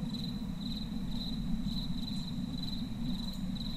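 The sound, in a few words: crickets chirping in the video game Hunted: One Step Too Far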